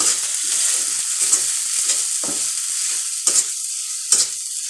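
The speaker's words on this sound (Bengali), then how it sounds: "একটা চামচ আদা বাটা দিয়ে আর দুইটা চামচ বেসন বাটা দিয়ে আবার নেড়ে চেড়ে নেব" Steady sizzle of chickpeas frying with ginger paste and gram flour, broken by several scraping stirs of a spoon against the pan, close and continuous with no talking.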